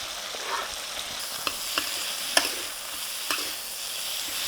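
Chicken, tofu and spring onions stir-fry in a wok for pad thai, a steady hiss broken by several sharp clacks of a utensil against the pan, moderately close with no talking.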